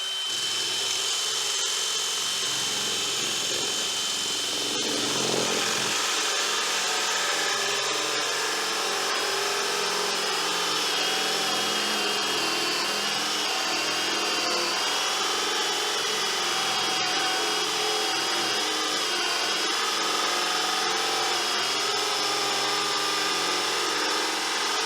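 A 68 mm Forstner drill bit from Rage by Vira boring into laminated chipboard, a continuous whining drill tone that shifts pitch as the bit bites through the plastic surface layer and keeps grinding steadily.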